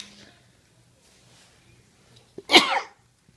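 After a near-silent stretch with a faint brief catch of breath, one sudden loud sneeze bursts out close by in a home, then fades quickly.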